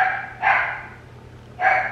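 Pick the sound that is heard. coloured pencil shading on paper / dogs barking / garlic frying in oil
dogs barking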